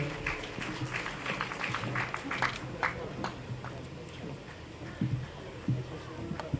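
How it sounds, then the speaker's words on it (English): Applause from the audience at the 41st Botswana Sport Awards ceremony, a steady patter of scattered claps filling the hall at moderate volume, with some voices mixed underneath. "A round of applause indeed."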